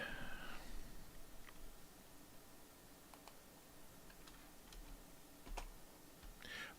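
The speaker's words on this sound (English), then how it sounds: "Typing very quickly." Quick, faint clicking of fingers typing on a computer keyboard during a livestream, scattered soft taps over a hiss of background noise.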